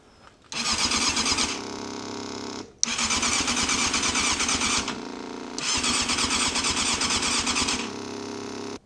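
A Yamaha Thundercat motorcycle being cranked after 13 years of sitting: three long bursts of whirring starter churn with a chugging engine underneath, separated by short gaps, loud and close with no talk.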